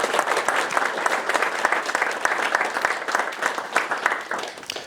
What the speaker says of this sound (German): Dafür einen Applaus.